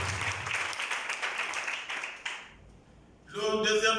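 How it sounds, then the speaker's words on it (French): Wedding guests applaud in a brisk burst of clapping for a couple of seconds, then it fades to near quiet before a voice begins speaking over the room. "je crois que ça s'applaudit"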